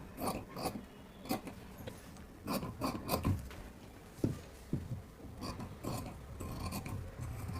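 Chalk or marker scratching lines onto blouse fabric while cutting a size 35 blouse, a series of close raspy strokes in short bursts, with soft handling rustles between them and no talking.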